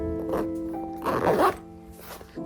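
A zipper being pulled shut on a Kate Spade tweed handbag by its leather pull, a close rasping zip in a couple of strokes over a steady background hum.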